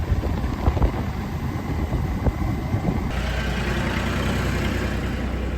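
Motorbike engine running steadily while riding on a cold day, a continuous low drone with rushing wind noise that thickens partway through, close and fairly loud, with no talk.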